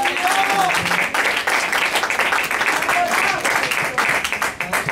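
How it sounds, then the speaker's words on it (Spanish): Church congregation clapping loudly and steadily throughout a worship service, a dense wash of applause with voices mixed in. "Dale ese aplauso fuerte al Señor."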